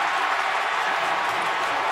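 A stadium crowd roars at an Apple Cup college football game after a fumble recovery, producing a thick, constant wall of cheering and clapping that stays loud and even from start to finish.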